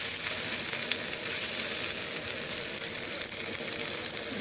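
Chopped vegetables sizzle in white oil in a wok with a loud, constant hiss and crackle, without pauses or voices.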